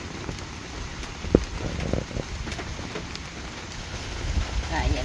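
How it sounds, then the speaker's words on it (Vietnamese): A heavy downpour over rural fields where fish are caught sends a steady broadband hiss of rain with scattered louder patters, while people talk quietly beneath it. "Mưa gì mà trắng xóa luôn."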